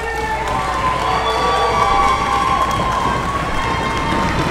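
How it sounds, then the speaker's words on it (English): A congregation at a stunt-studio fake fight club show cheers and shouts loudly and continuously, a dense roar of voices with some scattered clapping throughout. "the congregation should give you an enormous round of applause"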